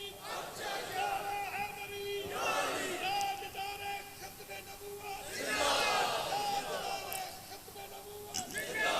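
Crowd at a religious mehfil gathering chanting slogans together in loud unison, two swelling waves of massed voices with sustained tones, fairly close and filling the space.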